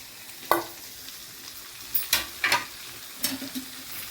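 Chicken pieces with spices fry on a low flame, a quiet background sizzle punctuated by a series of scraping stirs, some in quick pairs, close to the pan.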